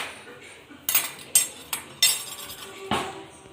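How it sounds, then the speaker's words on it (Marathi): A metal kadai is set down on a kitchen stove, producing five or six sharp, close clanks and clinks spaced irregularly, each ringing briefly before fading. "कढई ठेवली आपण"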